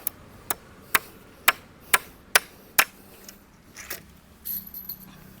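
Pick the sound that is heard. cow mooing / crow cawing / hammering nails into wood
hammering nails into wood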